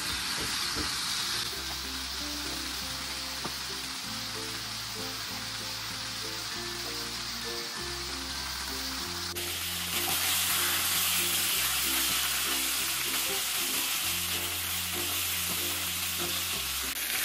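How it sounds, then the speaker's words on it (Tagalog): Pork spareribs sear and sizzle loudly in a hot pan for caldereta, a steady frying hiss that swells a little halfway through, with no talk and background music running underneath. "Ngayon na-sear na natin itong ating pork."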